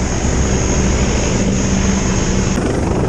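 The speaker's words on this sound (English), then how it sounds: "The helicopter." A rescue helicopter roars close overhead during a Channel rescue of migrants at sea, its loud, steady rotor and engine drone filling everything with no letup and no voices audible.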